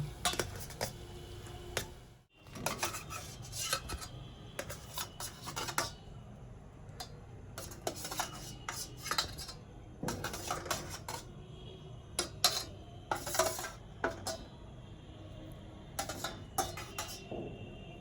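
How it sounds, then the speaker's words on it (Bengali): Dishes and utensils clink and clatter intermittently as steamed chicken momos are lifted out of the steamer, with soft, scattered metallic knocks over a quiet kitchen background and no speech. "আমাদের স্টিম মোমোটা তৈরি হয়ে গেছে, এবার এগুলো তুলে নেব।"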